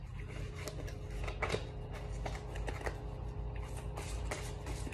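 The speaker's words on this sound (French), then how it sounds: "Je vais vous tirer une petite carte de l'oracle de ma maman." An oracle card deck is shuffled and a card drawn, giving a quiet, close rustle of cards with soft riffling taps over a low background hum.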